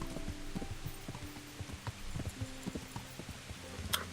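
Horse hooves clip-clop at a steady trot in the medieval video game Kingdom Come: Deliverance, evenly spaced close thuds over a soft ambient bed, no talking.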